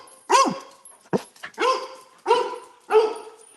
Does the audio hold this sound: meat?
no